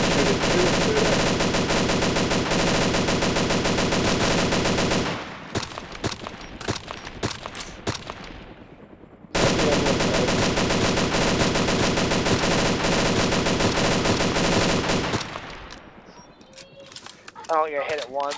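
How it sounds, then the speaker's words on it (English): M110 sniper rifle fire in the game DayZ during a sniper battle over Cherno. Loud, dense volleys of gunfire crackle in long sustained bursts, with quieter gaps of scattered shots between them. "Yeah, this is the M110. This is my favorite sniper rifle of all time."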